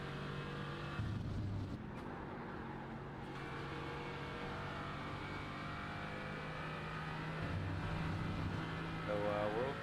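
Race car engine held at sustained high revs under hard throttle in a BMW sim racing game at Silverstone, a steady loud drone with pitch shifts between gears, running continuously beneath a commentator's talk.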